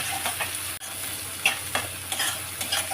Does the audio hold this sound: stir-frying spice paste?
yes